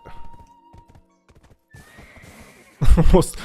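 A horse whinnies loudly near the end of a short stretch of game sounds, with hoof clops and faint effects before it.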